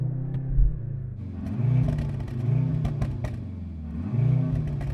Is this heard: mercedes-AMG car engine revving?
yes